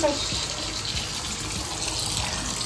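Tap water runs steadily and drains away in a sink, a continuous close hiss of flowing water throughout.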